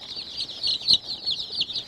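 Grey chickens kept in a warm pen cluck and peep in a steady, high, chattering stream, close by and moderately loud, with no talk over them.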